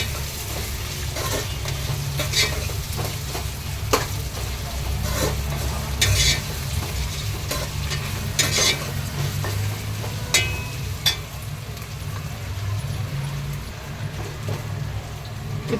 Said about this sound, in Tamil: ஆனியன் கூடவும் நல்லா வதக்குங்க.